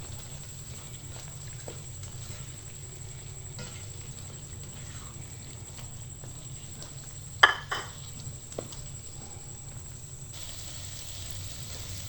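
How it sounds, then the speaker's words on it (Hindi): Two eggs frying in a pan for aloo anda bhujia give a faint, steady sizzle, with a few light clinks and scrapes of a utensil against the pan partway through. "इसमें हम 2 अंडे डालेंगे। और इसको तकरीबन 2 मिनट के लिए फ्राई कर लेते हैं"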